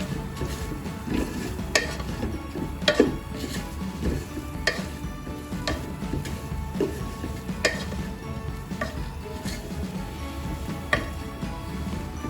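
Chicken masala powder is stirred in a hot pan for a chicken biryani, with a soft continuous sizzle broken by irregular scraping and clicking strokes of the spoon against the pan.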